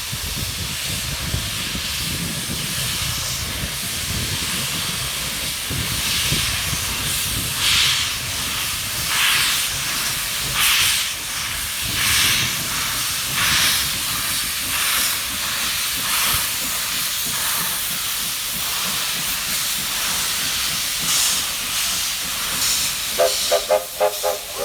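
A steam locomotive at the Thirlmere rail museum hisses continuously and loudly, a steady rushing of steam that fills the whole stretch, with a brief metallic clatter near the end.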